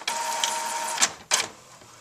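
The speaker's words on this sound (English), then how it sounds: "This is your standard inkjet printer." A standard inkjet printer feeds a sheet of parchment paper on a carrier sheet, giving a steady mechanical whir of the print head followed by two short sharp clacks close by.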